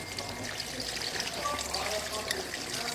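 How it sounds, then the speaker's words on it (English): Water pours into a pot of boiling pot roast as a steady, fairly quiet trickle and splash that continues for several seconds. "Then you add your second water."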